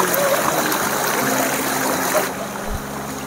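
A group of nursing staff wades slowly through stream water along a forest trail near Shrivardhan, with a continuous rushing, trickling flow and soft splashing, fairly loud and close, without talk.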